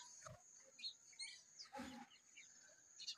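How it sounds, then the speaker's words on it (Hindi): Small birds chirping in the early morning outdoors, faint scattered tweets and short calls over a quiet background with a soft thump or two. "चिड़िया आ गई"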